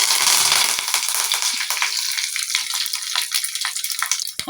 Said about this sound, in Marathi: आणि कढीपत्ता तेलात टाकताना काळजी घ्या,